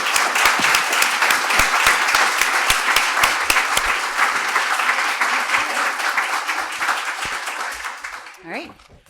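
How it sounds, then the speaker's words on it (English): Sustained applause from a forum audience for a panel, dense and loud crowd clapping that tapers off gradually before a voice speaks at the end. "Let's give this panel a big round of applause."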